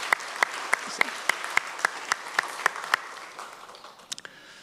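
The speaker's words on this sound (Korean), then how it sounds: "우리 수고하시는 선생님들을 위해서 힘찬 감사와 격려의 박수를 했으면 좋겠습니다" A church congregation gives the Sunday school teachers a round of applause, a dense, even wash of clapping in a reverberant worship hall with sharp rhythmic claps standing out, fading toward the end.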